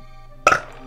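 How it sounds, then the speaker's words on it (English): A single short burp, sudden and close, standing out over a quiet background of steady tones from retro game music. "Burped at the right time when he did that."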